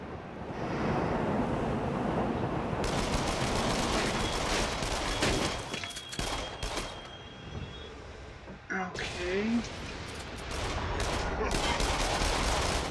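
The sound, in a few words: gunfire from video game Until Dawn: Rush of Blood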